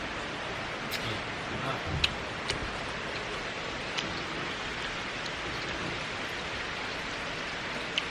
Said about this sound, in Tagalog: And it's raining over there.